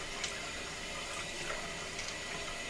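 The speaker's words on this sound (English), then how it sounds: "I'm going to put some hot water in my sink here." Steady, faint stream of hot water running from a tap into a bathroom sink, a constant wash of noise with small splashes, no voices.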